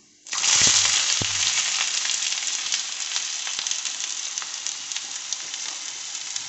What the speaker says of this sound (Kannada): ಈರುಳ್ಳಿ ಸ್ವಲ್ಪ ಫ್ರೈ ಮಾಡ್ಕೋಬೇಕು.